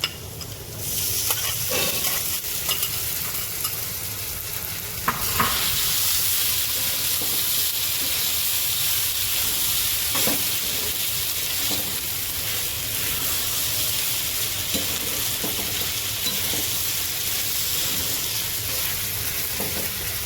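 Sago pearls tipped into a hot pan for sabudana khichdi, frying with a steady, close sizzle and scraping stirs throughout, with a couple of sharper bursts as the pearls are added and moved.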